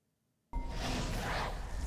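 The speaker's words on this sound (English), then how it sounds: "I love the sound of the portal." A magic portal in the game Frostcrag Spire bursts on abruptly after a moment of silence, becoming a sustained, rushing roar with a thunder-like rumble underneath.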